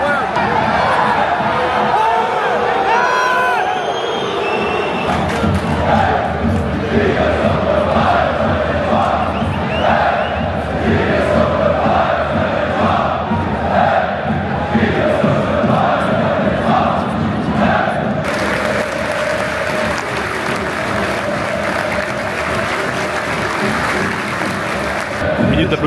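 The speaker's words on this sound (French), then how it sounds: "Minute d'applaudissements pour le papa de la famille Lukaku, monsieur Roger Lukaku, qui est décédé cette semaine" Football stadium crowd at an Anderlecht Clasico applauding for a minute, a loud, sustained roar of clapping and cheering from a huge crowd with shouting and chatter mixed in, unbroken throughout.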